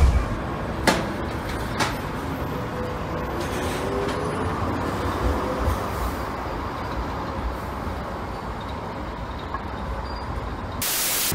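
Sheffield Supertram tram running, a steady broadband rumble and hiss of the rail vehicle in motion with a few brief clunks and a faint squeal, continuous and fairly close throughout, no speech.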